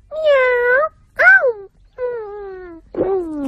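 Cartoon cat meowing in a Doraemon episode: four drawn-out, wavering meows, the second short and rising, the last bending downward, close and loud with brief gaps between.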